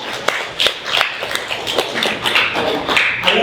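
A church audience clapping at a gathering, with sharp, uneven claps coming in quick succession and close up, and no talk over them.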